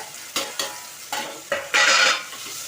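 Cumin seeds fry in sesame oil for a sangu leaf kuzhambu, with a string of sharp stirring and scraping strokes over a low sizzle, then a louder burst of crackling hiss near the end.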